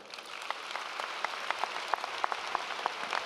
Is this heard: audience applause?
yes